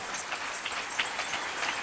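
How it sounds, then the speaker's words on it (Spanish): A church congregation applauds, a faint, steady wash of many hands clapping heard from some distance with no clear breaks. "Un aplauso para Jesús de Nazaret."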